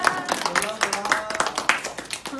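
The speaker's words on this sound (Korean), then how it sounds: "박수!" Group of children clapping in a church elementary Sunday school service, a short burst of uneven claps over ongoing chatter and voices in the room.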